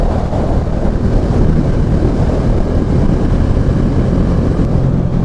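Bajaj Dominar 400 motorcycle riding on an expressway, heavy buffeting wind noise over a low engine drone, loud and continuous throughout.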